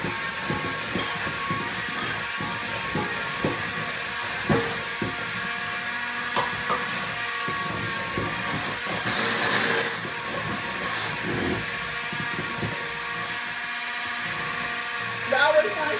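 An electric mixer beats eggs into cherry nut cake batter, a steady buzzing motor whine with light rattling against the bowl, while a voice talks over it.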